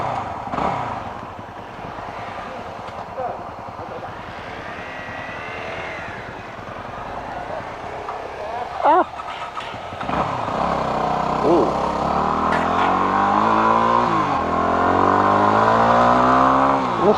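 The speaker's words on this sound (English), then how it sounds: "And then I test rode a WR250R when I was trail riding with Yuriko." Yamaha WR250R motorcycle engine while trail riding, a buzzing engine note that rises and revs up in the second half, with rhythmic pitch sweeps under wind noise; a voice speaks briefly early on.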